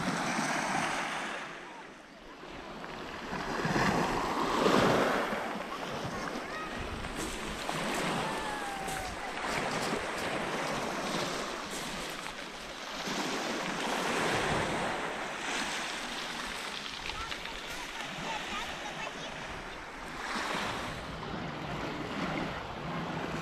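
Calm sea waves wash gently onto a beach at Lazarevskoye, Sochi, in December, with a steady broadband surge that swells and recedes in soft rolling cycles, light wind noise mixed in, no talking.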